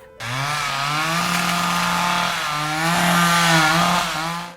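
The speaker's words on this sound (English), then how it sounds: "The contractor sawed 6 feet of the wood deck off." A chainsaw cuts through a wooden deck, its engine roaring loud and close without pause, the pitch dipping and rising as the blade bites into the wood.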